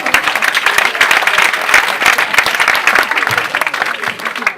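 A church congregation claps and cheers for the Lord, loud and continuous rapid clapping close by with crowd voices mixed into the din.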